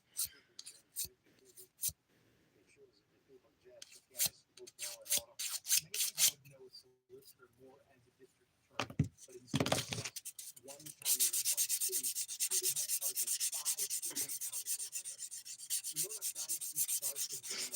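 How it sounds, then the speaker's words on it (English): A 180 grit sponge file smooths a fingernail in quick, close scratchy rubbing strokes, first sparse and gentle, then a dense continuous scrubbing burst. The filing is near and soft, with a quiet voice at times. "This is 180 grit sponge file. Just smooth that out."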